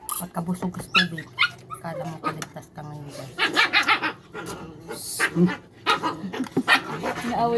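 A dog barks and yips in short bursts, close by, mixed with people talking over it.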